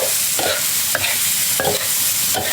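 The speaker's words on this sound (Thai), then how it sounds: "ปลาหมึกสุกแล้วค่ะผัดแป๊บเดียวนะคะ ใส่ใบกระเพราลงไป" Cooked squid and holy basil leaves are stir-fried in a hot pan, with a constant sizzle broken by several rhythmic scraping strokes of a spatula, loud and close.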